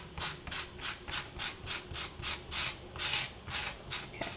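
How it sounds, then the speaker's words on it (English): Tissue blade scraping dried liquid clay off textured polymer clay, with about ten quick, evenly spaced scraping strokes that sound close and soft, and no voices. "Just be careful that you don't cut into the texture, just scrape and it should be just fine."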